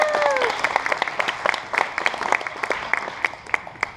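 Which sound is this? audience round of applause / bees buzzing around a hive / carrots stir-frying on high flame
audience round of applause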